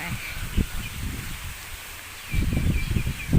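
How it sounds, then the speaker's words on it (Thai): Strong wind gusts rustle the leaves of trees at a temple in Nonthaburi, coming in surging bursts of soft, broadband rustling with calmer moments between the gusts. "ลมแรงมาก"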